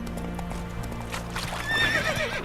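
In The Witcher 3, the horse Roach gallops with rapid hoofbeats, then lets out a loud, high whinny near the end of the short burst. Ambient rumble sits underneath.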